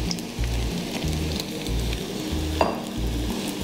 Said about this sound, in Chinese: 就可以將啲魚咧落鍋煎啦